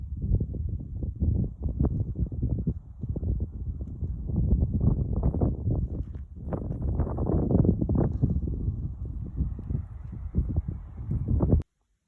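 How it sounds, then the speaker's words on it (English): Strong wind buffets and rumbles in steady low gusts for several seconds, with no voices, then stops abruptly, heard from inside a car while car camping. "It's very windy outside right now, so we are not out there."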